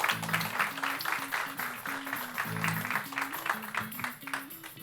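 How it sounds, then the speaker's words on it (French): A small school audience claps for arriving students, with rhythmic applause and some cheering throughout, mixed with music. "sous les applaudissements du public restreint mais néanmoins très présent du Collège du Revermont"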